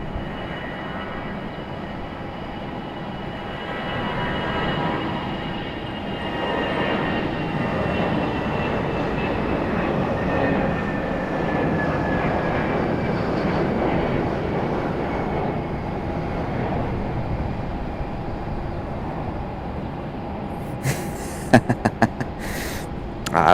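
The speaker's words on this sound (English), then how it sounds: "we're going to pick up our A319 departure" Airbus A319 departing Raleigh Durham airport in early morning, a sustained engine roar with a falling whine that swells slightly mid-clip, then a few sharp clicks near the end.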